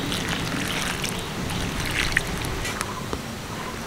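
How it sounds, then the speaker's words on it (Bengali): Cut sponge gourd pieces are rinsed in water in a kitchen, a steady close sloshing and swishing with small splashes running throughout. "এবার ভালো করে জল দিয়ে ধুয়ে নেব।"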